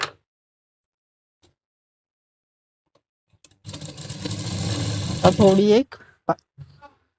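A sewing machine stitching an A-line gown, running steadily for about two seconds after a long quiet stretch, then slowing with a rising whine and stopping, followed by a couple of short bursts.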